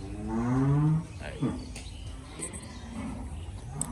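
A dairy cow on a farm gives one loud, close, drawn-out moo lasting about a second. Quieter barn ambience with faint background sounds follows.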